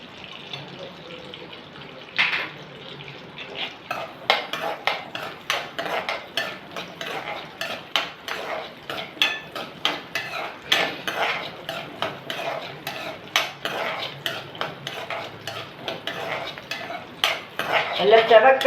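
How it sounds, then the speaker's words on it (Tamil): Garlic and lightly softened onion frying in a pan for a coconut-free idli and dosa chutney, stirred with a utensil that clatters and scrapes against the pan in many quick, close strokes over a faint sizzle. "நல்லா செவக்க வறுக்கணும்."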